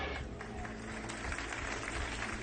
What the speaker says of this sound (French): Vous avez entendu la mollesse des applaudissements là?